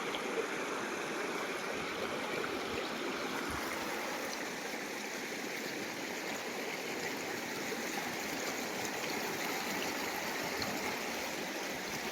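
A river in Konkan flows continuously with small waves, a steady broad rush of moving water that stays even throughout, with no voices over it.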